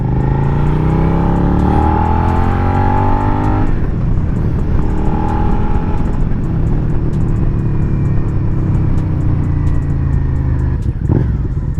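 A 2023 Suzuki SV650 motorcycle engine droning steadily while riding, rising in pitch as it accelerates, then dropping back and revving again, loud and close with wind noise.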